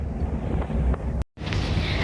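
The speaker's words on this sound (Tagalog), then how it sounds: "Ayan, nalakas ng hangin." Strong wind buffets the microphone at a cable car in Ocean Park, Hong Kong, a loud, rough rumbling roar broken by a brief dropout before resuming.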